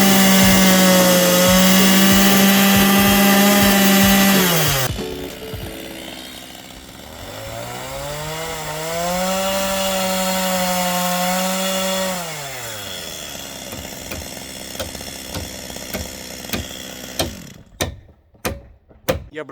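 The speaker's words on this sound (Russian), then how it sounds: "Данные пропилы делаются, чтобы дополнительно срезать стены." A chainsaw cuts kerfs into planed timber walls, its engine droning loud and close, pitch rising and falling as it bites into the wood, then idling down and sputtering to a stop in a few short bursts.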